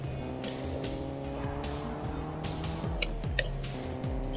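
Racing video game car engine droning steadily with a sustained motor tone and harmonic lines, plus brief tire squeal or skid accents near the end, moderately loud with no voices.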